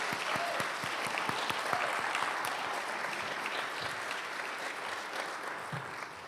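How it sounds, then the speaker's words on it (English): An audience at an MLK Day celebration claps steadily and warmly after songs and a poem, a dense sustained round of applause filling the room with no voices on top. "Can we get another round of applause for the folks that just sang and shared the poem?"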